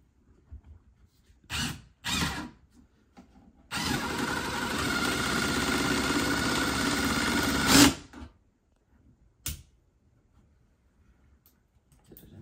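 A Milwaukee cordless drill or impact driver drives a screw in one sustained whirring burst of about four seconds, preceded and followed by short trigger blips and quiet gaps, loud and close.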